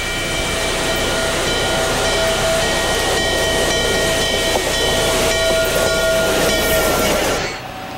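Norfolk and Western 611 steam locomotive runs past on the old Dry Fork branch line as a loud, continuous rush of steam and rolling wheels with a sustained whistle tone, cutting off abruptly at the end.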